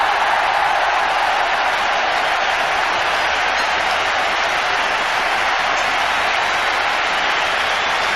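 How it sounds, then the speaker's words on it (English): Stadium crowd at a 1996 World Cup cricket match roaring for a Sachin Tendulkar boundary, a broad, sustained wall of distant cheering and clapping that stays steady throughout. "Listen to the crowd."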